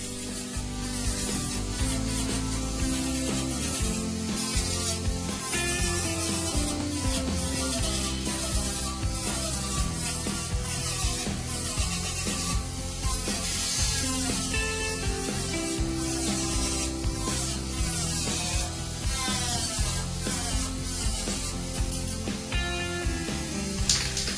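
A grit wheel sands a metal MGC car bulkhead inner panel, a continuous loud close abrasive hiss and rasp with shifting pitch that holds steady throughout, alone.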